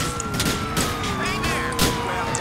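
An ambulance siren in a video game wails with rising and falling pitch sweeps, steady and prominent, layered over game noise and scattered bangs.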